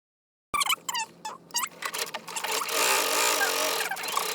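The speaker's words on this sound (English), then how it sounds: "we're just going to sew this down" A sewing machine runs a chain stitch along cloth face mask fabric at a quarter-inch seam, starting with a few short bursts and then settling into a steady, close, continuous whir that fills the rest of the clip.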